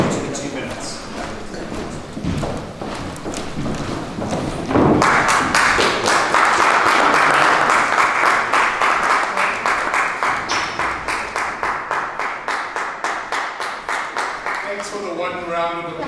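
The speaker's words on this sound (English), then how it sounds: "For the one round of applause." Applause at a multi-club joint meeting: a burst of clapping from a room audience that settles into slower, rhythmic unison claps, fairly close, with some talk before it starts.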